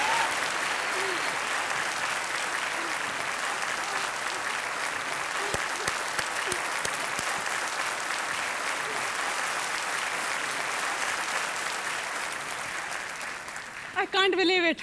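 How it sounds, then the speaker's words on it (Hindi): Game show studio audience applauding, a sustained roar of clapping from a large crowd, with a voice breaking in at the very end. "तालियां बजती रहे"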